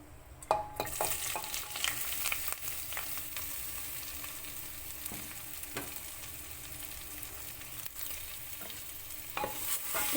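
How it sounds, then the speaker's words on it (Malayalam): Finely chopped medium onions sizzling in butter while being stirred, soft continuous frying with scattered sharp clicks of a spoon against the pan, close and fairly quiet, no voices. "ചേർക്കുന്നത് 2 മീഡിയം ടൈപ്പ് സവാള ചെറുതായിട്ട് അരിഞ്ഞതാണ്. ഇത് നമുക്ക് ഈ ബട്ടറിലേക്ക് ചേർത്ത് കൊടുക്കാം."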